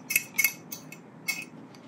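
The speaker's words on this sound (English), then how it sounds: "y'all heard me fumbling around over there trying to get a bowl ready" Light clinks and clatters of dishes and utensils as someone fumbles in a kitchen to ready a mixing bowl, a few quick taps in a short irregular cluster.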